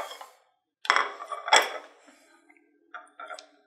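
Cutlery clinks and scrapes against a plate while a strawberry cheesecake is sliced, in a few short close taps separated by quiet gaps.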